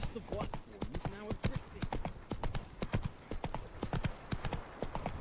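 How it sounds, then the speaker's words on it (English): Horse hooves clip-clopping in the video game The Witcher 3, a steady rhythmic series of close hoofbeats with brief vocal sounds early on. "Whoa there, Roach"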